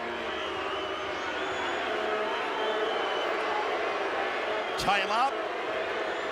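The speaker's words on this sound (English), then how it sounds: "The crowd doesn't like this one little bit." A rugby league crowd at a 1997 Balmain Tigers versus North Sydney Bears match, a steady broad roar of disapproval under continuous commentary, with a brief sharp swell near the end.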